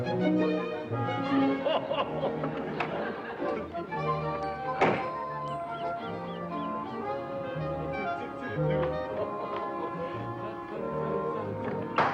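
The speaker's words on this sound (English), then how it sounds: "one of the clunks is clunking right now" A clunking thud sounds inside a house, a few dull knocks scattered over a bed of music and background activity.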